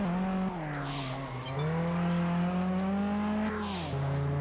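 A fast car in Test Drive Unlimited on PS2 drones loudly, its engine pitch rising and falling through shifts, with brief bursts of tire squeal near the start and end.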